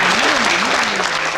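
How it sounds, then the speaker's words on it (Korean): Loud applause in an academic conference hall in Korea, as an anthem is introduced, with a voice audible over the dense clapping. "여러분 박수로 맞이해주시면 됩니다."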